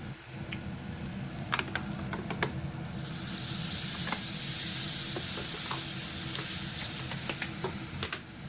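Cumin and coriander seeds go into hot oil in a pan for a fish curry. A low steady sizzle swells into a brighter, louder hiss after a few seconds, with scattered light spatula clicks and scrapes.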